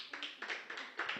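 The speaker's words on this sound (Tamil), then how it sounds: "ஒரு டைம் ஜோராக கைத்தட்டுங்க பார்க்கலாம்." Audience clapping at a Tamil talk, a short burst of several scattered hand claps in an uneven rhythm, fairly faint and heard alone.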